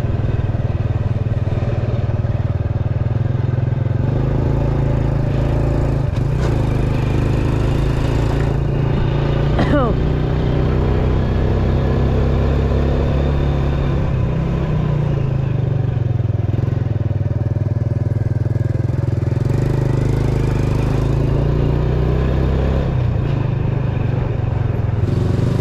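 Busy road traffic in Santa Maria, Bulacan, with a steady low rumble of many cars and motorcycles passing close by, plus occasional clatter and scrapes, continuous and loud throughout.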